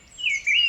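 Cartoon birds chirp in two quick, bright, high tweets, close and clear with nothing else around them.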